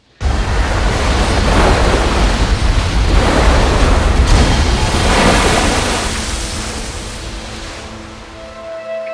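Waves from an underground river batter the inside of a cave in a loud, sustained roaring surge of broadband rushing water that swells, holds, then slowly eases, booming and echoing with no voices.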